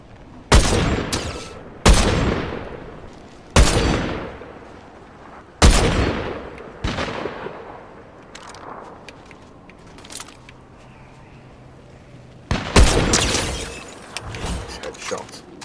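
Sniper rifle fire in Fortnite: several sharp, loud shots with long decaying tails spaced a couple of seconds apart, a burst of crackling impacts near the end, and faint talk and game noise in between.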